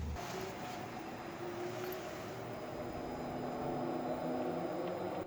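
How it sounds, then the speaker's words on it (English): Race cars lap a Grand Prix circuit on a practice day, heard from a distance as a faint, steady engine drone with a low rumble and a thin whine that barely changes. "You can clearly hear the cars over there at the Grand Prix circuit"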